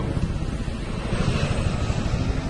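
Helicopter flight in the video game Medal of Honor Warfighter: a loud, steady rotor-and-engine roar that fills the scene without a break, close and dense, with no voices over it.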